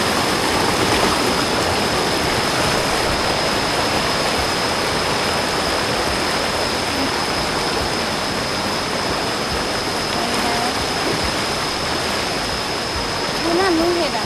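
Steady rushing of stream water flowing through a forest, a continuous broadband wash at even loudness throughout, with faint voices barely audible beneath it.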